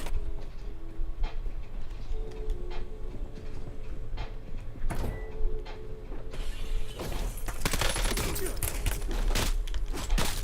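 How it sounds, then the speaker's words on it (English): Mechanical clicks and clacks of a magazine reload in the Black Ops 7 shooter game, followed by louder bursts of gunfire and sharp impacts in the second half, all without talk. "Loading fresh mag."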